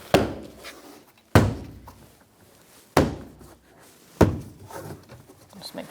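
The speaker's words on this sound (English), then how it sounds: "we're going to go along the edge and press the panel into the door" A rear door trim panel on a 2012-2017 Hyundai Accent is pressed into the door with the palm, making four loud, hollow thumps spaced about a second apart, with quiet between them.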